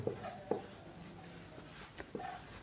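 Pen writing on paper during a Hindi maths lesson on polynomials, heard as a few soft, brief scratchy strokes spaced irregularly over a quiet room background, with no speech.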